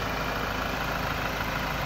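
A 2016 Ford Ranger XLT with a 2.2 diesel engine and manual gearbox idles in a steady, close, continuous drone without variation or voices.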